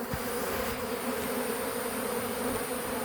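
A massive honey bee swarm drones in a steady, dense buzz that fills the whole stretch, close and continuous with no talk.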